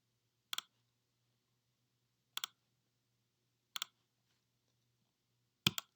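Four sharp computer mouse clicks, each a crisp double tick, spaced irregularly over a near-silent background with a faint low hum, the last one louder.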